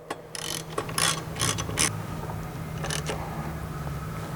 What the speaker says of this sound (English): Now again with the 5 32nd Allen, we're going to go ahead and tighten these guys down.